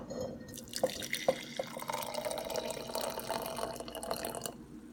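Water trickles and drips into a glass mason jar, a soft steady pour with a few sharp drip plinks, close and quiet.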